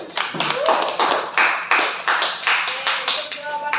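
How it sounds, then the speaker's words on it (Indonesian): A classroom of students applauding themselves, a burst of many hands clapping close by, with brief talk mixed in. "Berikan aplaus dulu pada diri kalian sendiri."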